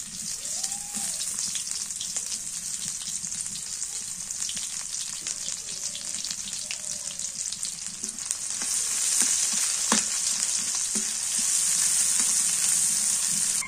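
Sliced onions fry in hot oil with a continuous crackling sizzle, punctuated by occasional spoon clinks and stirring, growing a little louder and brighter toward the end.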